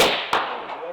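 A single sharp rifle crack at a steel target on a 500-yard range, loud and close, with a brief decaying tail after the report.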